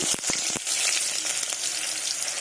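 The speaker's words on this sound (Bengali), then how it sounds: "কুচনো পেঁয়াজগুলো দিয়ে দিচ্ছি, একটু হালকা ভেজে নেবো" Chopped onions go into hot salted oil and fry with a bright steady sizzle, a few sharp crackles and stirring clicks at the start, close and without speech.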